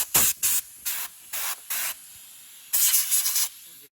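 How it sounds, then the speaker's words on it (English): Compressed air sprays in short hissing bursts to clean a 15-year-old Sears electric fan, with five quick blasts followed by a longer, sputtering spray, close and loud with no talking. "I have compressed air here."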